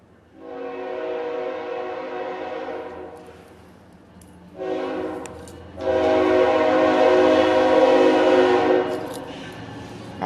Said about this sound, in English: That train. Conrail.